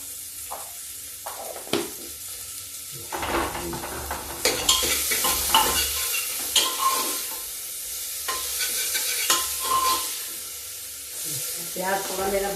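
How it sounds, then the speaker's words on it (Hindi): Cumin seeds and chopped onion sizzle and fry in a pan while a spoon scrapes and stirs them in bursts, steady frying hiss underneath with sharper clatters of the utensil throughout. "प्याज थोड़ा मेरा भून जाए।"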